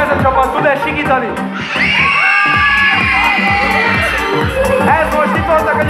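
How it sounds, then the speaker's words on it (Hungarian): Children at a live kids' show competition scream together in a loud, sustained, high-pitched burst, with a host's voice and crowd noise around it. "Megnézzük, ez a csapat tud-e sikítani?"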